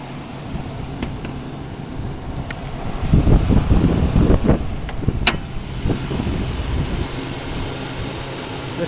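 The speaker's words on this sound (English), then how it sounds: "Listen to that engine, it's just purring, it sounds good." A 2003 Chevy Tahoe idles with its hood open, a steady low engine rumble under wind buffeting on the microphone, with a louder burst of rumble and clatter in the middle.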